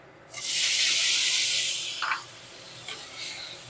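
Chopped tomatoes hit hot oil in a pan of spiced okra with a sudden loud hissing burst that holds briefly, then settles into a quieter, steady sizzle with a few small pops.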